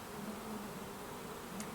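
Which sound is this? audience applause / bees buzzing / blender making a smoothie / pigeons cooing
bees buzzing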